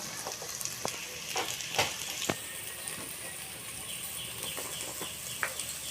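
Chana dal fries in hot oil with turmeric powder, a steady bright sizzle with scattered soft stirring scrapes and taps at a moderate distance.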